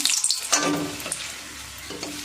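Vegetable rolls fry in a shallow film of oil, with a soft steady sizzle and a few louder crackles and stirring scrapes, heard close up with no talking.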